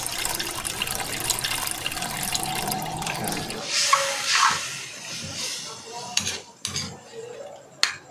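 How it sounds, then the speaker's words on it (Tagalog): Water pours from a tap into a pot for chicken adobo in a steady, close stream lasting several seconds. Afterward a few scattered clinks and knocks of the pot follow. "Tapos lagyan natin ng tubig."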